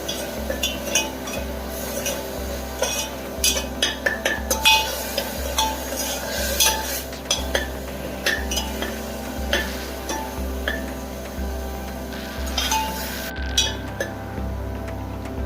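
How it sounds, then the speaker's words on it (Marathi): Onions being sautéed in oil for mutton curry, with a rhythmic clink and scrape of a metal spoon against the pan repeating steadily, soft sizzle beneath, no talk. "फक्त थोडासा तेलात परतून घ्यायचा."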